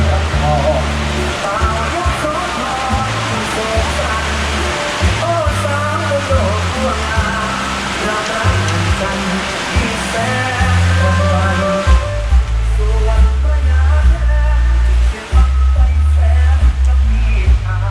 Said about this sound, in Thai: ฝนนะครับดูฝนนะครับ